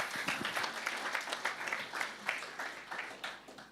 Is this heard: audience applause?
yes